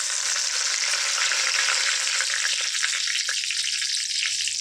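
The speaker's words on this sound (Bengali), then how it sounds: "চিনিটা গলতে গলতে আমরা দিয়ে দেবো এতে 2টো তেজপাতা আর 1টা শুকনো লঙ্কার ফোড়ন" Two bay leaves and a dried red chilli sizzle in hot oil with melting sugar, a loud continuous frying hiss with crackling texture that settles slightly toward the end, with no talking.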